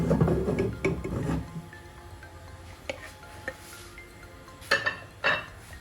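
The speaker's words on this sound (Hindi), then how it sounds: "एक बाउल में जो है इसी तरीके से गरम ओट्स और दूध हम निकाल लेंगे" Hot oats and milk ladled from a pot into a bowl, with metal spoon scraping and clinking against cookware, a dense burst of sound at first, then sparse light taps and clinks.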